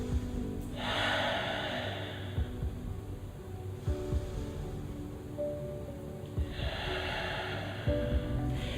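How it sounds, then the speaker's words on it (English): Slow, deep breaths during a yoga session, two long airy exhalations spaced several seconds apart, soft and close over a quiet background hum. "2 deep breaths."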